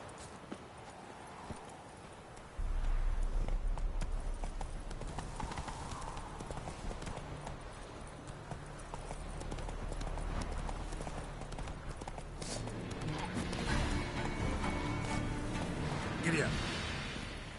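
Hooves clip-clop in a fast galloping rhythm as a horse runs in The Witcher 3, with game sounds and voices talking over it.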